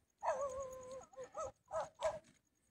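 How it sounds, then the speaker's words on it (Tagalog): A dog barks and whines angrily near fishermen netting fish, a drawn-out yelping bark followed by three short, sharp barks in a quick uneven burst, fairly close and with no talk over it. "Ayan, galit ang aso."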